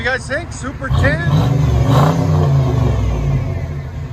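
A Chevy Tahoe 5.7L V8 with a Flowmaster Super 10 exhaust revs hard and rumbles close by, one sustained burst, with voices briefly audible at the start.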